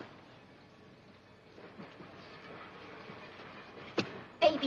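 A train rumbles along the track at a distance, low and steady, with a couple of sharp metallic clanks near the end.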